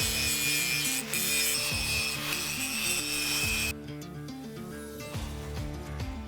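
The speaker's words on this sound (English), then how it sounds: "That means calling in the grinders." Grinders finish forged keris blades, giving a loud continuous abrasive hiss and rubbing with a droning mechanical hum underneath. The bright grinding cuts off partway through, leaving a lower rumbling whir.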